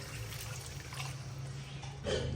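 Two cups of water go into a pan of matar paneer curry seasoned with kasuri methi. A low steady kitchen rumble gives way to a short, close splashing pour near the end.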